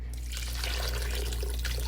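Stock poured from close by into a pan of Southern cornbread dressing makes a steady, liquid trickle and splash that runs unbroken for a couple of seconds, with no one talking.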